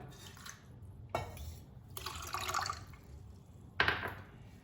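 Water is poured from a glass into freshly made beetroot juice in three short bursts. Each pour starts with a sharp splash and then fades, close and fairly quiet, with no one talking.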